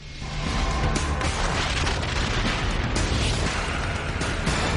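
Deep, rumbling explosions from the Mount Pinatubo volcanic eruption roll on continuously, with heavy booming blasts and a dense roar filling the space, loud and sustained.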